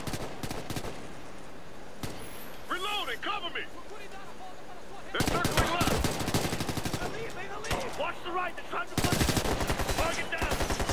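A turret machine gun in a video game fires rapid, sustained bursts, with two loud stretches of dense automatic fire standing out over a busy game background while people talk excitedly.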